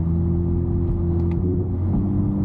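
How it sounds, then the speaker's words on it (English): Inside a catless Toyota Camry in night city traffic, the engine hums in a steady low drone as the car brakes and downshifts, close and constant with no voices. "But let's get on the brakes and downshift again."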